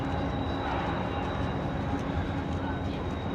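A continuous low rumble of a train at Union Station in Kansas City, with a steady high whine and rolling noise holding constant throughout.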